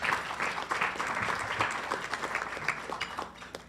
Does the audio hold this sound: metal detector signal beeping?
no